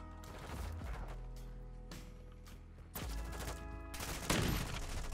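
Sniper rifle gunfire in Call of Duty: Modern Warfare II, with a couple of sharp, loud shots standing out over a continuous background of game battle noise.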